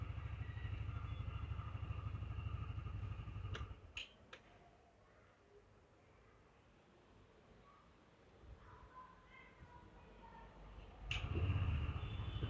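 TVS Jupiter 125cc BS6 scooter engine running close up at idle, a steady low hum that cuts out midway with a few clicks, leaving near silence before the engine starts again.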